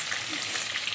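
Green chilies coated in gram flour batter frying in hot oil for pakoras, a dense, even sizzle heard up close, with no voices.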